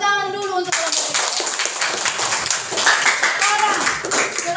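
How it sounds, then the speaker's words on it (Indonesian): High school class applauding a student group in a classroom, a dense burst of clapping from many hands that fills the moment, mixed with children's voices. "Tepuk tangan dulu untuk kelompok 3."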